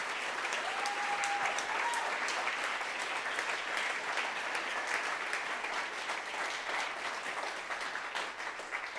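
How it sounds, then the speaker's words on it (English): Audience applause fills a conference hall at the close of a panel, steady dense clapping throughout with no talk over it. "Give them another round of applause."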